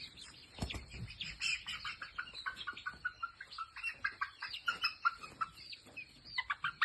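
Many chickens, DP cross birds at a poultry farm, cluck and chirp continuously in a busy, overlapping chorus, close by, with a brief thud early on.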